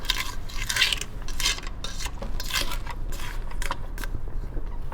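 A spatula scrapes around the inside of a mixing bowl of creamed butter and sugar cookie dough, with repeated scraping strokes and light clinks against the bowl, close and fairly loud, no talking.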